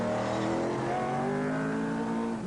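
A new 1980 rally car driven hard at the Welsh Rallysprint roars loudly and steadily, its pitch climbing as it revs hard, close and continuous throughout with no voices.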